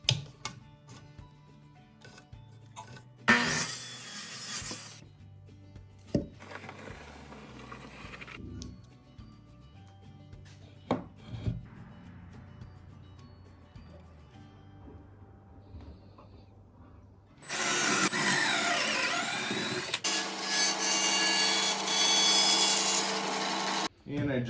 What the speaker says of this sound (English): I just made a series of pocket holes to hold this apron